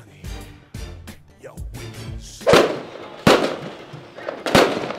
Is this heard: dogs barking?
no